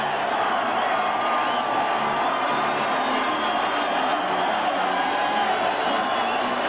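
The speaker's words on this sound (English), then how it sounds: "Hear the crowd screaming, save our Raiders." Football stadium crowd at a 1980 Raiders versus Broncos game, screaming and chanting for the Raiders: a loud, unbroken roar of many voices from a distance, holding steady with no break.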